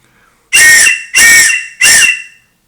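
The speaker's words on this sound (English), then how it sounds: "The whistle. It's not most powerful whistle in the world" Three loud, shrill blasts from a slim survival kit whistle, each about a third of a second long and evenly spaced, sounding close and piercing against silence.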